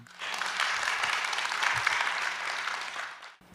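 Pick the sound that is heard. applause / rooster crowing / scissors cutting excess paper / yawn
applause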